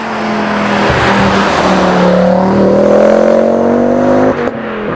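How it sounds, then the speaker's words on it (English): A Ford Focus RS is driven hard, its engine droning loudly and steadily and then climbing in pitch as it accelerates through the revs, heard from on board, near and loud, with a brief dip near the end. "So we've got Ben from String Theory that's driving the Focus."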